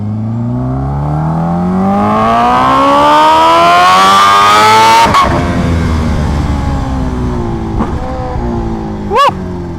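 A Kawasaki H2R motorcycle accelerates hard, its engine pitch climbing steadily and loudly through a long pull, then a sharp shift and renewed roar with quick blips up close.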